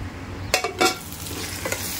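Chicken keema and karela cook in a pan, a steady low sizzle under a couple of sharp scraping stirs from a utensil, with no voices.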